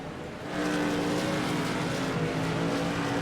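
A race car sits on pit road in a racing video game, its engine a steady loud drone with harmonic tones that swell after a brief quieter start, with no talk.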